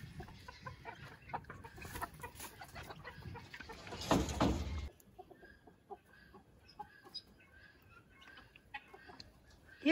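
Chickens cluck softly in a steady scatter of short calls while feeding, with a burst of rustling and scratching noise midway before the clucking continues.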